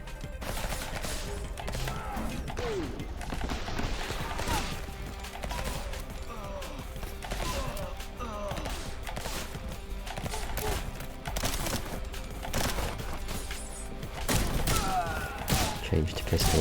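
Special gun firing in the action game Suit For Hire: dense, continuous shots and impacts mixed with game effects and music, steady and close throughout, with a voice talking at times over the gunfire.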